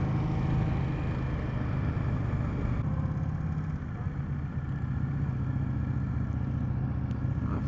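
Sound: 2020 Indian Scout Bobber motorcycle engine while riding

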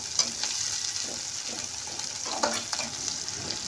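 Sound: frying onions and green chillies in a pan

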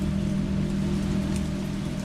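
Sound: rain in video game Resident Evil 3 Remake

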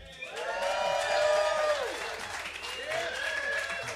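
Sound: live audience applauding at a radio session

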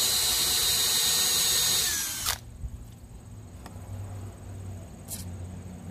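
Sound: power saw blade cutting plexiglass

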